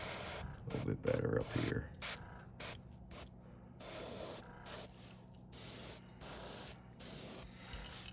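An airbrush sprays gold paint onto a topwater popper fishing lure in short, repeated hissing bursts separated by brief pauses, close and soft, with a few quiet spoken words near the start.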